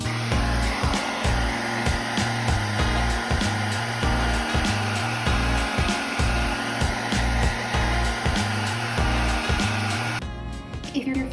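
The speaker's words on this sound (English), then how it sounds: "You can use a hairdryer to speed that process up." A hairdryer blows steadily while drying marbled paint on a bag, a loud continuous whir with faint rhythmic pulsing that holds throughout, shifting briefly near the end.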